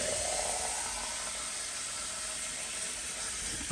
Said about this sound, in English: Now we'll try the faucet and see what we have.